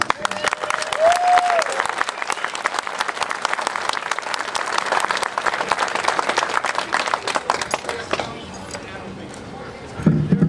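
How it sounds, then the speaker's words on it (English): A dense crowd applauds a speaker at an outdoor Occupy San Diego protest rally, sustained loud clapping for about eight seconds before thinning out. A brief whistle-like tone sounds early on and voices emerge at the end. "please give him a big round of applause"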